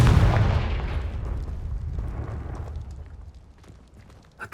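A Confringo fire spell bursts in Hogwarts Legacy, opening with a loud, close blast that rumbles off over several seconds, with a small sharp thump at the very end.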